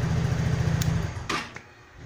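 Easyride 150Q fuel-injected scooter engine idling with a steady low hum, then cut off by a manual kill switch, the rumble dying out into near quiet with a brief click.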